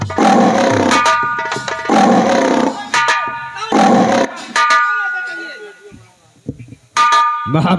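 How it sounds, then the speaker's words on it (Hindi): A lion roars in a royal hunting story: several loud, drawn-out roars come in bursts with voices between them, and the last ones fade toward a quieter gap. "सुना वो शेर दहाड़ रहा है"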